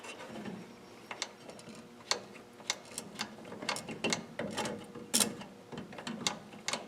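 Turning the adjusting screw of a Ford dual-servo drum brake with the drum removed, giving a series of sharp ratcheting clicks at an uneven rhythm, close and moderately loud.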